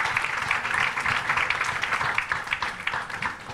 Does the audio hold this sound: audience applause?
yes